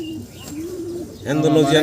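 A large pair of farm pigeons coo in low, rolling tones, close and clear, swelling into a fuller, louder coo at the end with no talking.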